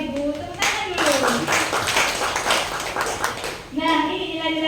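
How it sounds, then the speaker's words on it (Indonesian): Audience at an Indonesian teachers' session claps hands together, a short burst of clapping mixed with voices talking over it. "tepuk tangan dulu"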